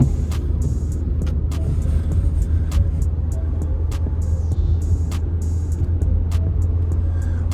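A car rumbling steadily as it drives off, with a constant low engine drone close by and occasional sharp clicks and knocks from inside the cabin.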